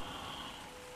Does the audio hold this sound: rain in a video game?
yes